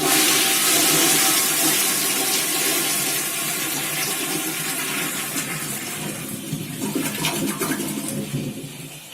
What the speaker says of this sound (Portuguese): Vou dar uma descarga aqui agora para ver como é que ficou.